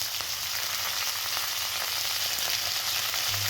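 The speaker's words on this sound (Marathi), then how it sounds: "अर्धा चमचा हिंग, 10 ते 12 कढीपत्त्याची पानं मस्तपैकी फोडणीसाठी" Asafoetida and curry leaves sizzle in hot oil for a Marathi-style vermicelli upma tempering, a steady, close, crackling fry with faint stirring and no talk.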